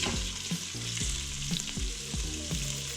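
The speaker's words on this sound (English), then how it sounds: "Do this on saute, and then we'll add our chorizo sausage." Chorizo sausage fries in heated olive oil in an Instant Pot on sauté, a dense, loud, continuous sizzle with rhythmic low knocks of stirring throughout.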